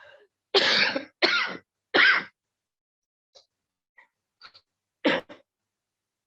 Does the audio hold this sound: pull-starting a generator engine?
no